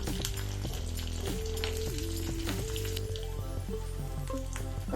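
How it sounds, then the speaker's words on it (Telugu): Crushed garlic sizzles steadily in hot oil for tamarind dal, a constant frying hiss with a tonal hum underneath and occasional crackles, close and alone. "ఇప్పుడు ఇందులో మనం దంచుకున్న వెల్లిపాయలు వేసుకోవాలి"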